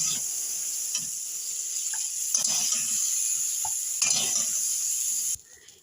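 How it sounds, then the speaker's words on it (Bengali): Cauliflower seasoned with turmeric and salt fries in a kadai, giving a steady close sizzle broken by occasional scraping stirs before the sound cuts off abruptly. "ফুলকপিটা আমার হালকা করে ভাজা হয়ে গেছে"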